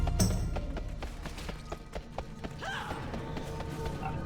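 Horse hooves clip-clop at a steady trotting rhythm on a horse mount in World of Warcraft, fairly close and clear, with faint game ambience beneath.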